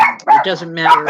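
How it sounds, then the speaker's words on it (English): Dogs indoors bark and yip in short sharp bursts close by, mixed in with someone speaking over them. "I'm sorry about the dogs again."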